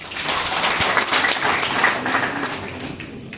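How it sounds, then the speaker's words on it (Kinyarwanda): Wedding guests applauding at a ceremony, a dense, sustained burst of many hands clapping at once, fairly loud and steady, then easing slightly toward the end. "niko babaha amashyi menshi"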